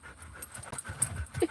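A dog pants heavily in quick, rasping breaths, close and fairly loud, with a few faint whimpery catches between the huffs.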